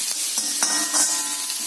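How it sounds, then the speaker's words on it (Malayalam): Chopped onion and curry leaves fry in oil for a pumpkin erissery curry, giving a close, continuous hissing sizzle with a few soft stirring scrapes. "കുറച്ച് സബോള ചെറുതായിട്ട് അരിഞ്ഞിട്ട് കറിവേപ്പില ഇട്ട് മുപ്പിച്ചെടുക്കുന്നു."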